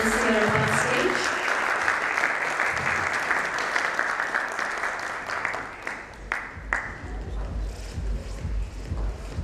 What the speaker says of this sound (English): Can we have a big round of applause for us panelists here on stage?